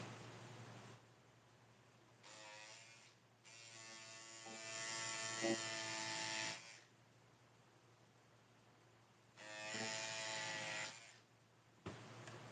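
Electric scissors or a buzzing cutter slicing through blouse fabric in several bursts of steady whirring, a short one then a long loud run and a later burst, close up with quiet pauses between.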